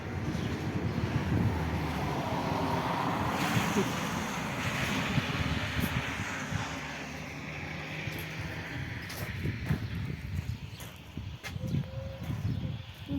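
Strong, cold wind gusts through the town of Demirci in Turkey, a continuous low rumbling buffet against the microphone that swells and eases over several seconds.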